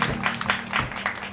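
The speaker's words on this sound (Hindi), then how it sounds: "ताली बजी तो हृदय में प्रसन्नता हुई।" An audience gives a brief round of applause, with a short burst of scattered clapping from many hands.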